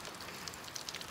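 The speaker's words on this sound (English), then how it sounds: "pouring down rain" Heavy rain pours down steadily in the Pacific Northwest, a dense continuous hiss with scattered brighter drop patters on surfaces, fairly faint and without any voices.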